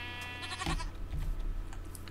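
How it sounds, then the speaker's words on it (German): A sheep in the Minecraft video game gives a short bleat or two over a steady background hum and faint clicking, loud and up front. "Ein Schaf haben wir jetzt plötzlich hier."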